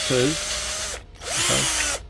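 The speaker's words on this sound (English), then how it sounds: "drill another hole, but only go 3 steps" A power drill fitted with a step drill bit bores a hole in two close, loud bursts, each whirring up to speed and then winding down after a brief pause.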